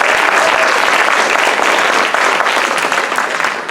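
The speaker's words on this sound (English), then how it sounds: "Let's give them a round of applause" A crowd of faculty, staff and students at an evening university event at CSU Monterey Bay applauds, dense steady clapping heard up close, sustained throughout and tapering slightly at the end.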